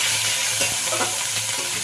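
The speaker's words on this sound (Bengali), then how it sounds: "এবার দুটো শুকনো লঙ্কা দিতে ভুলে গেছিলাম সত্যি দিয়ে পরে দিলাম" Dry red chillies and onions frying in hot oil for an egg korma, a dense continuous sizzle with light stirring knocks, close and even throughout.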